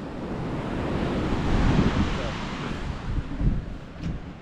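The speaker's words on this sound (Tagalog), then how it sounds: "Itong hangin na to, daan lang siguro to" Strong wind rushes and buffets the microphone outdoors in a broad, continuous roar that swells and eases, with people talking underneath.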